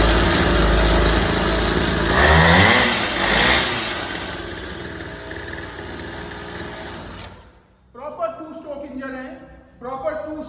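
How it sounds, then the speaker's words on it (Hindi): A children's petrol pocket dirt bike with a two-stroke engine buzzes loudly and raspily, then revs up and settles back before cutting out, after which someone talks in Hindi. "प्रॉपर 2 स्ट्रोक इंजन है।"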